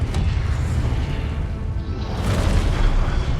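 A Confringo spell explosion in the Hogwarts video game lands as a dull, booming blast that swells and rumbles on for a few seconds.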